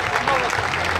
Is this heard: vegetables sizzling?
no